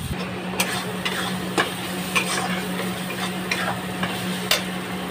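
Soya chunk curry sizzles steadily with garlic paste in a pan, with a continuous frying hiss and sharp, irregular clicks of a spoon stirring against the pan.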